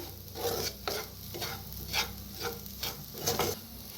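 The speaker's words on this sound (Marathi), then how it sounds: "मस्त बघा किती छान असा मसाला बनलाय आपला तेलात असंच एक मिनिटभर का नाही भाजून घ्यायचं" Masala roasting in oil in a pan, with soft rhythmic sizzling and repeated scraping stirs about every half second, close and fairly quiet with no voices.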